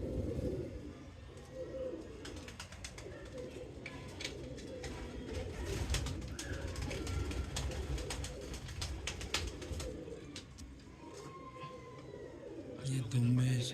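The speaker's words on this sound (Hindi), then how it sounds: "ये हमारे आतिफ भाई की जो है वो चैम्पियन कबूतर है" A champion pigeon coos in low, soft bursts amid steady background noise and a voice talking, with faint chirps and occasional sharp ticks throughout.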